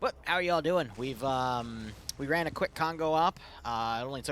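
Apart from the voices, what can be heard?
No everyday noises stand out.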